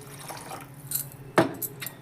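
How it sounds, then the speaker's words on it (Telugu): Water splashes from a glass into a pot of tamarind okra curry, one short gurgling pour close by amid light kitchen clinks and otherwise quiet surroundings. "ఇప్పుడు మీకు సరిపడా వాటర్ వేసుకోవాలి."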